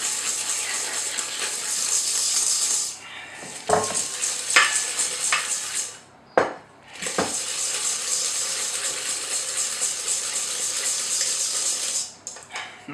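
A wooden spoon whips egg into a chocolate brownie mixture in a bowl, giving a close, wet, steady stirring slop broken by a few short pauses and knocks, with no talking.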